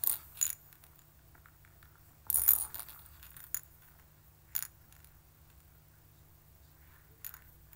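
Small balance puzzle pieces topple and clatter onto a surface in a few sharp, brief bursts separated by quiet pauses, close and fairly loud against a silent background.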